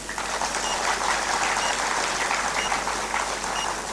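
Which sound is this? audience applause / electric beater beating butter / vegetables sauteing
audience applause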